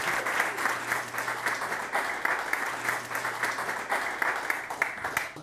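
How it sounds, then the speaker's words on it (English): An evening lecture audience gives a warm round of applause to welcome the speaker, many hands clapping in a dense, steady patter for several seconds with no one talking. "So please join me, give a big round of applause for Mr. James Holland Jones"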